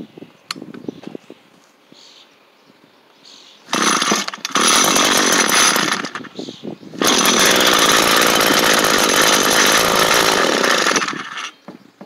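A 2016 Echo GT-225 string trimmer cold starting: a short pull-start burst that catches and then dies, then a second start that roars loud and steady for several seconds before cutting out.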